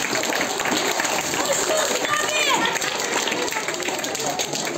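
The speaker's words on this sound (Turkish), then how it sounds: "Burada alkışlamanız gerek." An audience of students and guests claps at a school Nevruz ceremony, a dense, steady patter of many hands that fills the whole stretch with a slightly distant, roomy sound.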